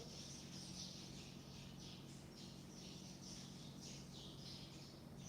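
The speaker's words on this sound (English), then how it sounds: "Listen to all them birds." Birds chirping and calling outdoors, a steady dense chorus of repeated squawky calls carrying over a constant low background hum throughout, with no speech.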